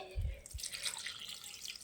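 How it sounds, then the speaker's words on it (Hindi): Water poured from a vessel into a cooking pot of mustard greens at a village hearth: a close splash and gurgle, with low thuds early on, then a lighter, continuous trickle of liquid. "अब इस पतीले में पानी डाल देंगे हम।"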